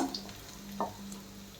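Onion and ginger pieces fry in a pan as a soft, steady sizzle, with a brief stirring scrape midway, heard alone without any voices.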